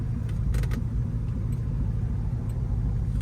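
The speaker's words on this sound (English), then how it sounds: "Back down to idle as we wait for a light." A 1972 Plymouth Roadrunner's engine idles in a steady, close, low rumble while waiting at a light, with a few faint clicks and rattles over the continuous drone.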